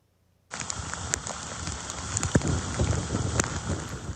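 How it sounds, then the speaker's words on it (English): Light rain falls over downtown Charleston during Hurricane Ian, a steady wash of patter that starts abruptly after half a second of near silence and continues with scattered louder drops. "Charleston reporting light rain."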